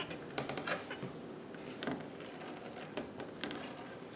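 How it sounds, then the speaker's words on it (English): Canned spinach being stirred into an Italian sausage stew in a pot, a steady run of scraping, clinking utensil strokes with soft wet patter, close and alone with no talking. "Then we'll give it a stir and go from there."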